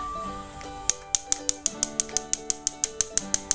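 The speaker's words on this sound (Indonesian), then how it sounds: "Oke, pemantik sudah berbunyi" Rapid, sharp infrared gas stove igniter clicks repeat at a steady pace of about four per second, close and clear over a faint background hum.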